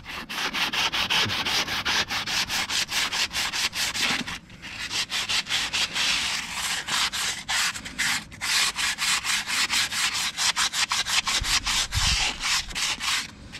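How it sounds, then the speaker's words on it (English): 1981 GMC wheels are scuffed by hand before painting, producing loud, close rhythmic rubbing strokes in fast regular bursts with a short pause partway through, and no talk. "So all we gotta do is just scuff it up."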